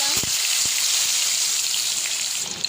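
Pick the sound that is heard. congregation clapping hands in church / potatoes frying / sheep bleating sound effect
potatoes frying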